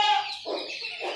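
A rooster clucks in short bursts close by, a few throaty calls spaced across a second, with no talk over them.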